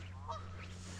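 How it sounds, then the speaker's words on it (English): A single goose honks once, faint and far off, on a quiet outdoor hike beside rain pools, over a steady low hum. "I hear a goose."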